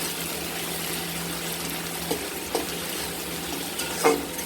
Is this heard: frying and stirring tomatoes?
yes